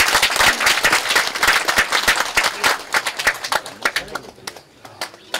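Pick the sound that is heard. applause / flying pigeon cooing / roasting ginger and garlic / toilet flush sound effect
applause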